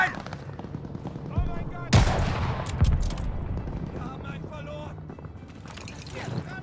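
Gunfire in a battle in Call of Duty Vanguard, set in Stalingrad, with bursts of shots and loud impacts mixed with shouting voices and other battle noise.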